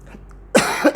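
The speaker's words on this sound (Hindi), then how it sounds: "तबीयत थोड़ा गड़बड़ है इसलिए खांसी आ रही है।" A single short, harsh cough bursts out close by after a moment of near silence, followed by a brief second rasp.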